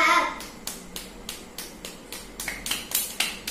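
Several children clap together in a classroom, about ten sharp claps in an uneven but steady rhythm, close and moderately loud, with a brief young voice at the start.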